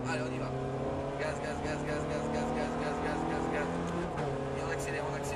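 A Ferrari F430 race car accelerates hard on a track, its engine a loud, steady, rising roar heard from inside the cabin, with a voice talking over it.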